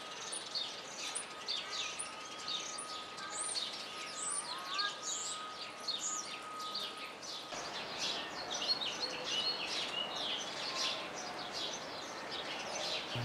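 A bird calls near a parked car outdoors, a dense run of repeated chirps and tweets at moderate level over steady background noise, with no talk.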